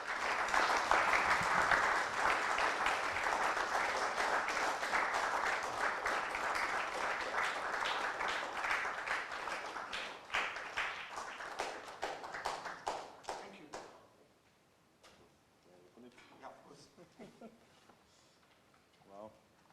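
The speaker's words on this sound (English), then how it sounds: "I will ask all the audience to have a round of applause for this" Audience applause at a book launch event for a coffee table book, a full room clapping loudly and steadily for several seconds before tapering off into scattered claps and quiet murmuring.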